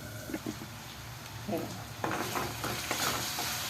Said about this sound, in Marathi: कांदा टॅमॅटो चांगला शिजला. आपण मऊ बनवावा. अजून 1-2 मिनटं मी चांगलं शिजवून घेते.